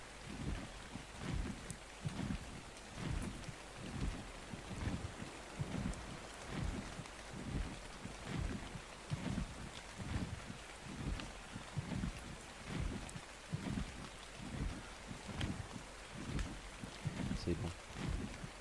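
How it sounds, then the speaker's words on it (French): Steady rain in the ARK survival game: a constant broad hiss runs throughout, under repeated heavy rhythmic thuds. "Il pleut encore, mais il pleut quelque part sur cette map."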